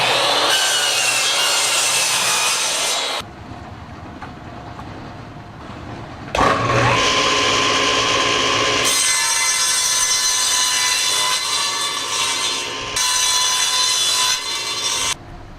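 Wood boards being sawn to size for small bee mating nuc boxes: loud, continuous power-saw cutting in several long passes, with short quieter gaps between cuts.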